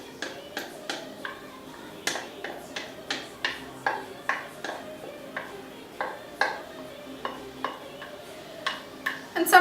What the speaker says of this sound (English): So I'm gonna mix the dough with melted margarine.